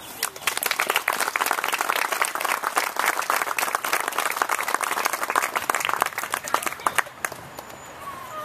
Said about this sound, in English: I would like to applaud her.